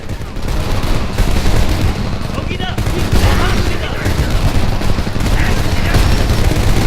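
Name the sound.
heavy caliber gunfire in the video game Homefront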